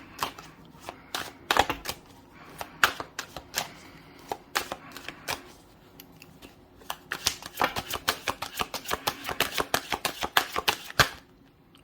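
Tarot cards are shuffled by hand, with quick irregular riffling snaps and soft slaps in bursts, close and fairly quiet.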